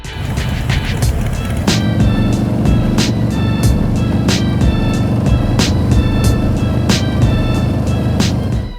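Harley twin cam motorcycles ride along the road, their engines thrumming loud and close in a steady low rumble, with regular sharp ticks and clatter running through it.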